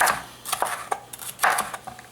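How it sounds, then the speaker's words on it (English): A sharp knife chops red bell peppers on a kitchen cutting board in quick, uneven taps and thuds, close and clear, with no talking. "I'm going to cut this curved piece off because it makes it difficult for chopping"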